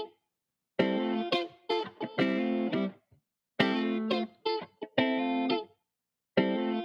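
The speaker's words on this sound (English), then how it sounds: "you can also add a filter to it" Choppy bursts of buzzy, distorted electronic tones with a filtered, lo-fi character, starting and stopping in an irregular rhythm.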